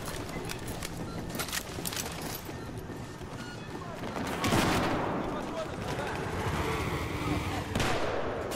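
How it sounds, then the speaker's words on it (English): Explosions and gunfire in the video game Battlefield 4 on the Zavod 311 map, with rapid shots at first, then a louder blast midway, all beneath players talking. "Why does it keep exploding?"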